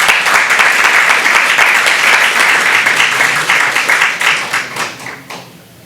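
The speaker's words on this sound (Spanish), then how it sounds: "Que el Señor les bendiga y les damos un aplauso." A church congregation bursts into loud, close applause to welcome first-time visitors, dense rapid clapping that holds steady and then thins out and fades over the last second or so.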